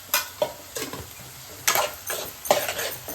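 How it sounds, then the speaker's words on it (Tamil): Radish sautéing in a pan, with a steady soft sizzle and repeated scraping stirs of a spoon against the pan. "இப்போ இந்த முள்ளங்கி நல்லா வதங்கட்டும்."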